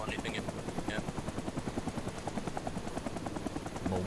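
A helicopter flying in a video game gives a steady rhythmic rotor chop throughout, moderately loud, mixed with scattered gunfire and game effects and partly under background talk.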